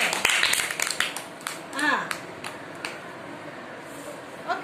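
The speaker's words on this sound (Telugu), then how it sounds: "క్లాప్స్ ఇవ్వండి," Children in a classroom activity give a short burst of clapping near the start, then an adult voice talks over quieter background noise.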